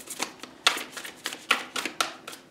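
Large oracle cards shuffled by hand, a close series of quick papery riffles and flicks in an uneven rhythm, moderately loud with no voices.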